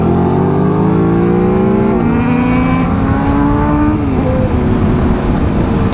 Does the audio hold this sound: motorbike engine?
yes